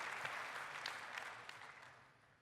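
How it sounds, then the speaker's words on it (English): Conference audience at the TIBCO NOW 2018 keynote applauding customers who have appeared on stage, a steady wash of clapping from a large crowd that slowly tapers off. "another round of applause for all of our customers who've been on stage here and in the breakouts"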